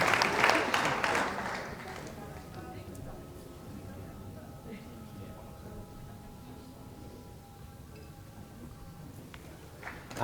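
Audience applauding at a championship dog show final, a burst of clapping at the start that quickly fades into a quieter room with light murmuring.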